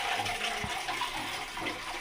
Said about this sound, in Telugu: భోగి స్నానం చేస్తున్నారు మా పిల్లలు ఇద్దరు